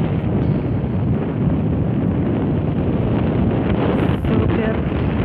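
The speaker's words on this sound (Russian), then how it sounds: "Ух, какой ветер классный!" Strong, steady wind at the top of Capodimonte in Naples buffets the microphone with a loud roaring rush that continues throughout.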